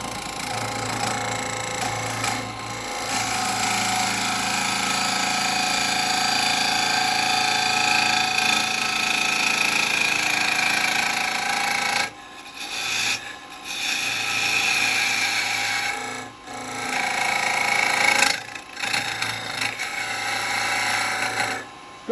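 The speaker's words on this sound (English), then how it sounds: "I'm just going to use this square chisel, same one I was using the other day on the bowling ball." A square chisel cuts a Bubinga wood bowl spinning on a woodturning lathe, giving a loud, continuous scraping hiss over the motor's hum. It runs for more than twenty seconds, with a few brief pauses where the tool lifts off.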